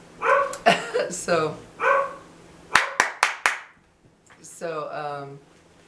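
Several dogs bark in quick, sharp bursts nearby on a neighborhood street on New Year's Eve, set off by a big bang, with a short run of rapid barks and a whining yelp at the end.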